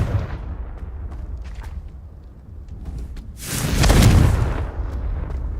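Confringo spell blast in Hogwarts Legacy, low rumbling combat noise swelling into a loud, close explosive burst with a bright crackling roar that slowly fades.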